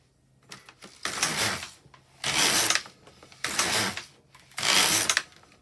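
An LK150 knitting machine carriage being pushed back and forth across the needle bed while knitting a hem: four loud, rasping mechanical passes, each about half a second to a second long, separated by short pauses, close up with no talk.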